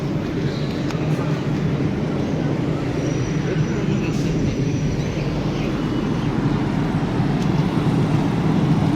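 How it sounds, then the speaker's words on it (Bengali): Two local trains roll into Ranaghat station together, a heavy continuous low rumble filling the platform, with a murmur of waiting passengers blended underneath. "দুটো ট্রেন একসাথে ঢুকে গেল"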